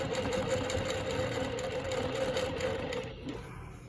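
A longarm quilting machine stitches a Baptist Fans pattern, its motor whirring in a steady mechanical hum with a fast rhythmic needle pulse, near and even, easing off slightly in the final second.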